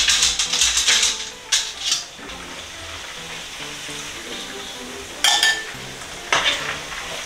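Pork ribs deep frying in hot oil for sweet and sour ribs, a steady close sizzle and bubbling with a few louder crackling bursts and the clink of utensils stirring.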